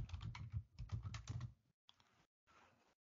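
Keys tapped out on a computer keyboard while entering a Linux command, a close, quick run of clicks for about a second and a half, then two shorter bursts after brief pauses, with no talking.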